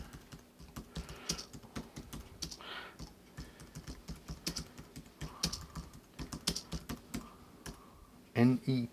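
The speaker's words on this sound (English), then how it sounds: "I'm not very good at typing." Fingers tap on a computer keyboard in close, uneven bursts of clicking keystrokes with short pauses, and a voice speaks briefly at the end.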